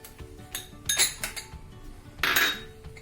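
Chopped garlic is mixed into butter in a bowl, producing a few light spoon clinks and scrapes against the dish, with two louder scraping strokes, close and alone.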